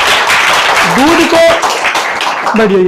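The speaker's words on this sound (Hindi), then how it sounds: "बहुत बढ़िया, इनके लिए तालियां बजाइए।" Students clap for classmates in a school lesson on the digestive system, a loud stretch of mixed clapping with a teacher's voice speaking over it throughout.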